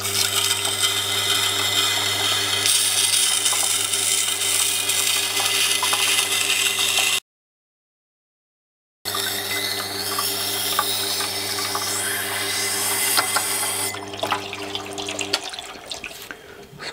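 A blade is sharpened on a 1000-grit CBN grinding wheel, a steady machine drone with a bright hissing grind running continuously, briefly dropping out to silence and then resuming before the motor sound fades.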